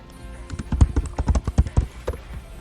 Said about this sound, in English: go to the search bar and type in Sora's Keyblade